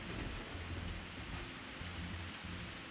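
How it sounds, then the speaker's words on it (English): Steady, dense rain in a farming video game, a loud continuous hiss with soft low rumbles underneath, running unbroken and without any talk. "Damn, this rain is loud."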